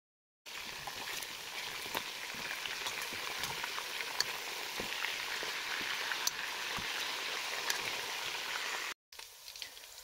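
Lamb chops browning in oil, seasoned with salt, pepper and anise powder, give a steady close sizzle with scattered pops and crackles, cutting out briefly near the end.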